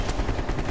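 Rapid gunfire from a hand cannon in the video game Black Ops Cold War, with repeated loud shots packed close together in a short, dense burst and no talking.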